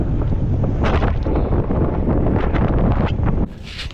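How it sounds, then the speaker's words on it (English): Strong wind buffets the microphone with a loud, continuous roar while a fishing boat is pedaled across a New York City bay, broken by faint splashy water noise and a brief drop near the end. "That wind is basically hitting us at like kind of an angle, but mostly in our face."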